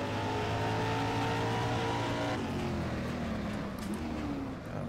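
A 1978 Ford XC touring car races at Winton in rFactor 2, its engine droning loud and steady with harmonic whine, pitch falling midway as it lifts off, then holding under brakes on a bumpy corner; no talk.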